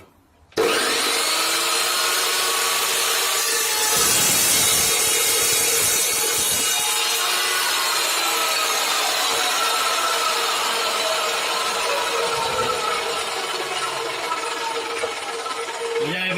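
Evolution Rage 2 saw with a multi-cut disc slicing through round metal tube, a loud, steady grinding whine that runs unbroken for over fifteen seconds, with harsh rasping texture throughout.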